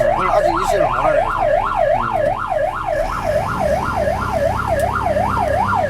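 A loud wailing fire engine siren sweeps up and down in a steady rapid cycle, close by, over a low rumble of road traffic in Busan, South Korea, as the engine weaves through congested lanes.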